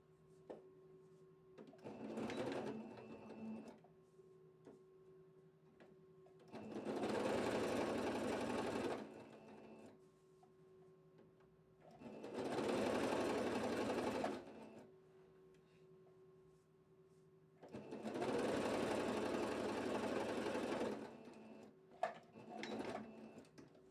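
A sewing machine topstitches the back facing of a gypsy-style blouse, running in a short burst and then three long, steady runs of several seconds each, with quiet pauses between them, close and alone.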